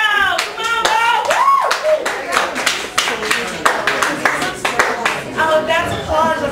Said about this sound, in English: Oh, that's applause of people who are like